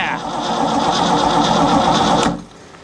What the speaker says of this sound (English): Cranking over really good.